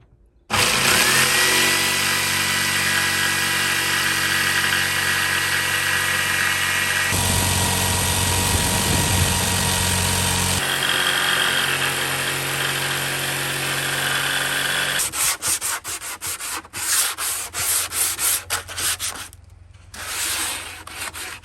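A power saw cutting wood for a camper van bed conversion, a loud continuous rasping whine that holds steady for about fifteen seconds, then breaks into choppy bursts as the cut finishes.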